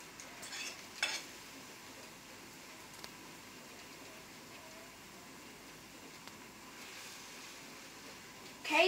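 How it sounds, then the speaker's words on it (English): Egg mixture bubbling and frying in a home kitchen pan, a faint soft continuous sizzle with a few light stirring scrapes. "it's starting to bubble."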